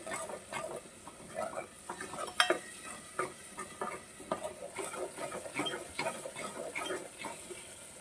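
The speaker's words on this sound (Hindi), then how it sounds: "तो इन सारे मसालों को हम सुनहरा होने तक भून लेंगे।" Onion, garlic, ginger and green chili paste frying with spices in a pan while being stirred, with steady close sizzling broken by scraping spoon and utensil clatter throughout.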